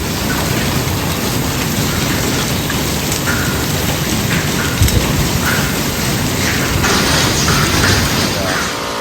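A heavy hailstorm pounds down with rain and strong wind, a loud, steady hiss and patter with a low rumble of thunder underneath and a few sharp knocks.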